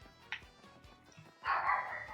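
A dog barks in the Paper Mario: The Thousand-Year Door video game, with one short yelp early on and then a louder burst of barking near the end over quiet game sounds.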